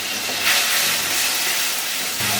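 Red chili paste, ginger paste and turmeric paste sizzle in a pan after a splash of water, a loud, dense, continuous hiss close up with no talk.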